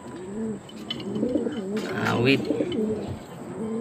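Racing pigeons coo repeatedly in a loft, low throaty burbling calls running through the whole stretch while someone talks nearby.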